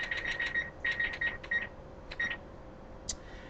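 A kitchen stove timer being set while pasta boils, giving a run of short, clipped electronic beeps in quick groups, then a lone beep, close and clear with no talk.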